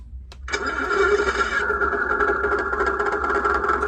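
A Tongde 1/16 scale Centurion RC tank's simulated engine sound starts up with a brief rising rumble, then settles into a steady, fairly loud idling drone that holds evenly throughout.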